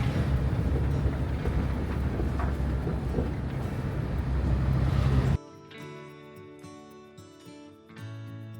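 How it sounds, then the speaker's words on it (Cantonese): An off-road vehicle carries passengers on a three-hour ride from Pokhara, Nepal, toward a trailhead, with a loud, steady engine and road rumble that cuts off abruptly into music. "之後呢，就要轉呢個越野車，要坐3個鐘頭"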